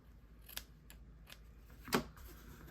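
Scissors make two quick, crisp snips while trimming loose linen thread ends in a quiet crafting room, the second cut louder and sharper than the first, with faint light handling noises between them.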